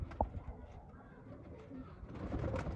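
A pigeon coos softly amid faint background rustle, with one sharper call near the start and low murmuring coos continuing.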